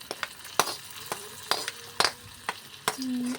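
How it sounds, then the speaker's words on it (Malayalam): Erissery curry with roasted coconut being stirred and fried in a pan, close spoon scrapes recurring in an uneven rhythm over a constant low sizzle, with no one speaking. "അതിൽ എല്ലാം കൂടെ ഒന്ന് മിക്സ് ചെയ്ത് കൊടുക്കാം"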